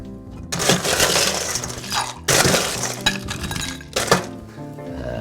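Ice cubes tumbling into a metal cocktail shaker in three loud, rattling clattering bursts, close and clear.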